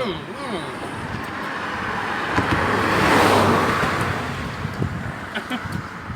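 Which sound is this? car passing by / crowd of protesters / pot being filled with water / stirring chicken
car passing by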